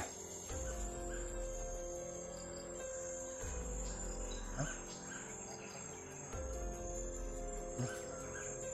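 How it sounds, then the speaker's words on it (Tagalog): An unfamiliar wild bird calls outdoors with a harsh, crow-like voice, repeating about three times at regular intervals over a steady, loud chorus of crickets and insects. "Ngayon lang pa lang ako nakarinig ng ganyang boses ng ibon."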